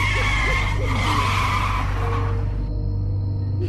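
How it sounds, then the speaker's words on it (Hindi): A car jolts to a sudden stop with loud tire skidding and squealing, the engine roaring close by before the screech cuts off near the end. "नंदिनी ने इतना बोला ही था कि अचानक गाड़ी एक झटका देकर रुक गई"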